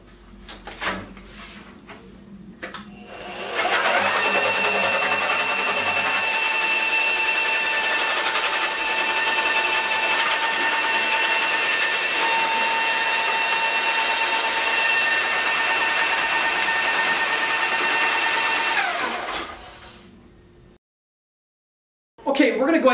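A Picote Twister Mini drain cleaner spins through a 2-inch P-trap, a steady motorized whir with a rattling edge that holds for about sixteen seconds, then winds down amid scattered handling noises.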